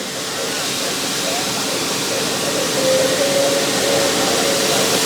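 Steady, loud rush of water carrying cut plastic flakes through the dewatering unit of a KBM plastic recycling machine, a continuous broadband wash with machinery hum and a faint tonal whine joining midway.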